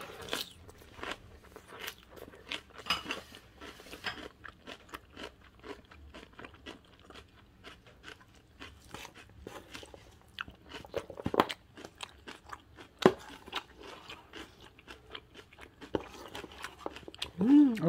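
Crisp crunching and chewing of young radish kimchi sounds close up in irregular bites and scrapes, with people talking quietly at a Korean meal.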